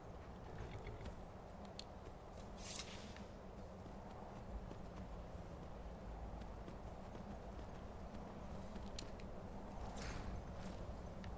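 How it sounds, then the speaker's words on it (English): In a video game with a horse mod, horse hooves clip-clop at a steady walking pace, faint and distant, over a low background rumble. "This horse mod is awesome."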